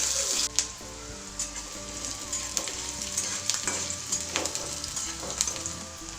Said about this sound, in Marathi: त्याला चांगलं परतून घेऊ कांदा थोडासा आपल्याला लाल होत आहे